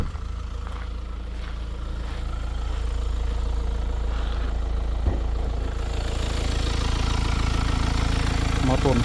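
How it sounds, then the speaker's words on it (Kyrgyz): The 2.0-litre engine of a 2019 Kia Sorento 4WD idles under the open hood, a steady mid-low hum that grows slightly louder toward the end, with someone talking over it. "Мотор иштеши жакшы."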